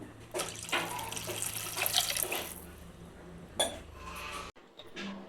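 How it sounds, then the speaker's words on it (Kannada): Water runs and splashes steadily into a metal pot of mushroom sambar for several seconds, then stops abruptly. "ಸಾಂಬಾರಿಗೆ ಏನು ಅಳತೆ ಬೇಕು ನೀರು ಅದು ಸ್ವಲ್ಪ ಹಾಕಂತೀನಿ"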